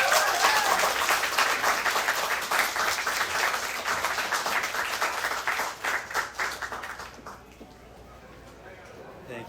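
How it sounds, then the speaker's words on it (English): An audience at a student reading event claps for poet Hunter Gray in dense, sustained applause that gradually thins and fades out near the end, with some background voices. "Please give a big round of applause for Hunter Gray"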